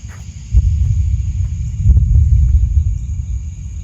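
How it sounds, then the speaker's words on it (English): Thunder rolls from an approaching storm over an outdoor baseball hitting session, a loud low sustained rumble that swells partway through, with faint ticks above it. "Dang, you hit it so hard you brought the thunder."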